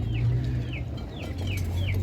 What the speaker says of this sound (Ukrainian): Так, дивіться, курчатка.